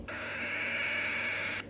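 A young parrot chick lets out one continuous raspy, hissing call, rough and breathy rather than tonal, lasting under two seconds at a quiet level, close by and alone.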